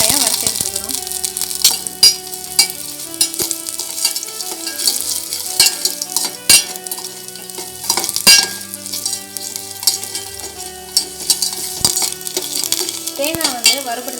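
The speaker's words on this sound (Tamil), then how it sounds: "இன்னமும் ஒரு பாத்திரத்தில் நெய் எடுத்துகிட்டு அதில் தேங்காயை வறுத்து எடுத்துக்கலாம்" Grated coconut frying in ghee in a pan while sakkarai pongal is being made, giving a steady close sizzle broken by frequent scraping and clinking of a spoon against the metal.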